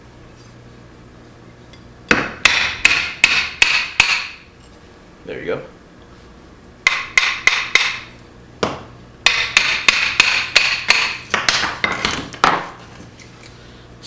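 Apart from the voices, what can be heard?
hammer back end batoning Gerber Profile knife through wood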